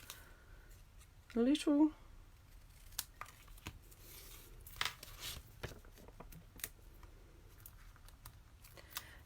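Scissors snip through a paper banner for a handmade card, a quick burst of close crisp cuts followed by scattered light paper rustles and taps, with quiet talk around them.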